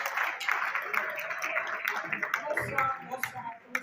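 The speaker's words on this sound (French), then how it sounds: "Est-ce qu'on peut encore une fois s'applaudir" An awards ceremony audience claps together in a steady round of applause that thins out and fades toward the end, with some voices under it.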